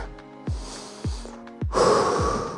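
A few soft thumps are followed by a loud, close, breathy rush of air, like a deep breath being pushed out.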